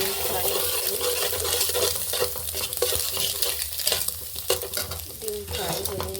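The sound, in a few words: egg frying in a pan for chow mein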